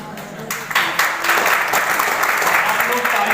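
Applause from the audience at a Janjatiya Gaurav Diwas ceremony at NSTI Kanpur greets a named participant. The clapping is dense and sustained and rises after a brief start, with a voice faintly audible beneath it.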